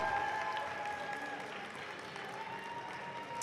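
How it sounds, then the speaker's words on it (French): Faint, steady applause from the crowd at a French roller derby match, honoring the referees and officials; a soft continuous patter of clapping mixed with distant crowd noise and a few faint tonal sounds, fairly far off. "j'aimerais bien que vous fassiez un tonnerre d'applaudissements pour les officiels"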